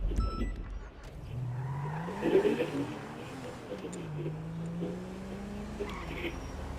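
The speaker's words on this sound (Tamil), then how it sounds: "பயங்கரமா ஸ்கிட் ஆகுது." Car tires skidding in a GTA game on PS5 with a fully modified Thar: a drawn-out engine whine with squealing slides that rise and fall across the stretch, under continuous background game noise and talking.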